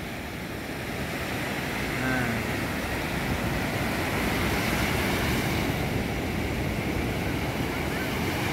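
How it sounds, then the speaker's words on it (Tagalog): Big ocean waves crash and roll continuously onto a storm-battered beach at Bucana, Nasugbu, Batangas, a dense roaring surf mixed with wind buffeting the microphone, and a voice speaks briefly. "Ang lalaki ng alon."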